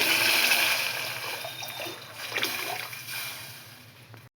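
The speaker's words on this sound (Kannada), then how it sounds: "ಇದಕ್ಕೆ ನೀರು ಹಾಕಿ ಉಪ್ಪು ಹಾಕಿ ಲಿಡ್ ಕ್ಲೋಸ್ ಮಾಡ್ತೀನಿ. ನೀರು ಸೇರಿಸ್ತಾ ಇದ್ದೀನಿ." Water poured into a cooking pot of pulses on a stove, a steady splashing trickle that gradually eases off, ending with a brief gap and a knock.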